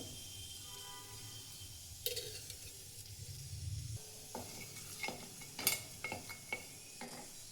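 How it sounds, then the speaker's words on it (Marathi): Coriander seeds dry-roasting in a pan for a rajma masala, with a faint background sizzle and scattered scraping and clinking from a spoon stirring them, quiet and close. "धने भाजून घ्यायचे"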